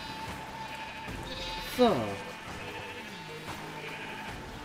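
Brown sheep in Minecraft let out one clear, wavering bleat near the middle, with a softer bleat after it, over background game sounds while a person speaks briefly.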